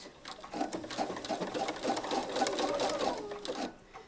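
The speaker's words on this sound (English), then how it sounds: "So we start off with tacking it down, and I use a zigzag stitch to do that." A sewing machine running a zigzag stitch to tack Polybraid elastic into the seam allowance of fabric, a quiet, rapid rhythmic clatter heard close and alone for about three and a half seconds.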